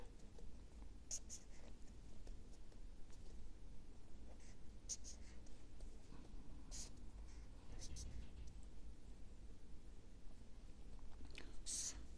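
A pen scratching across paper while a control circuit of switches is sketched for a refrigeration and air-conditioning lesson, with soft, steady strokes and scrapes running throughout at close range under a low background hum.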